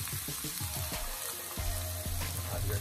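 Carrots tipped into a pan of sauteing onions, with a few clattering stirs and scrapes followed by a steady, close sizzle that continues without talk.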